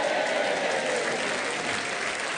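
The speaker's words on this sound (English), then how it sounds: "how it feels to get a round of applause just because you've managed to say the name of a road" An audience at a live comedy show in Portishead gives a dense, even round of applause that holds steady throughout.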